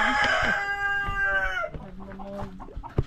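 A Gold Laced Orpington rooster crows loudly and close by, a long strained call that trails off into softer clucking and shuffling.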